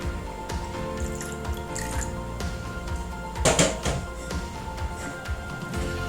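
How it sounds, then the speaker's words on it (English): Vinegar poured into a homemade dandruff remedy, a trickling, dripping liquid pour with a brief louder splash midway, heard fairly close over a steady background. "So I'm also going to be adding some vinegar."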